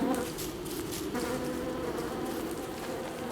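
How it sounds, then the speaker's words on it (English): Bees buzz in the video game Don't Starve, a continuous dense insect drone that holds at an even level for the whole stretch, with no voice over it. "So there are mean bees down here that we need to be aware of."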